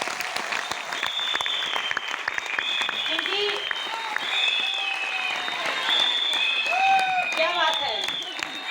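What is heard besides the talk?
audience applause at a DXN meeting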